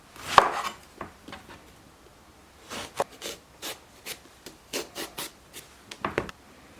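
A knife slices thin rounds of eggplant on a cutting board, each cut a short crisp chop at an irregular pace, close and fairly loud, with no talk.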